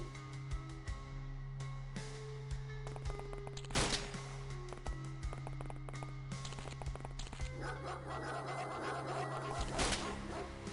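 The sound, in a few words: dog barking in X-Com Files video game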